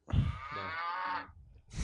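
A cow moos loud and close, one long drawn-out low call, then begins another right after.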